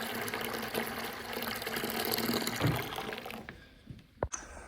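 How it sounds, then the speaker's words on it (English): Water sloshes and swishes continuously as a flat mop with neutral cleaner rinses a VCT floor in a 130-year-old church in New Bedford, Massachusetts, fading to quieter drips and a couple of knocks near the end. "right now I'm just rinsing the floor here. I'm just using a flat map with some neutral cleaner"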